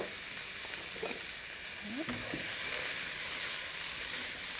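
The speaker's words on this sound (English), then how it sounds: "Stir that all together until it's fragrant." Onions and Italian seasoning sizzle steadily as they are stirred together in a hot pan, a continuous close frying hiss with a few soft scraping stirs and no talking.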